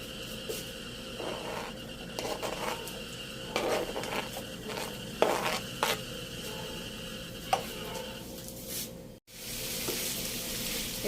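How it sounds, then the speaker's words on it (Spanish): Meat frying in a pan with a little garlic salt gives a steady sizzle, broken by intermittent clinks and scrapes of utensils against the pan, then a brief cut to quieter hiss. "Y ahí vamos a ir poniendo la carne para empezarla a freír"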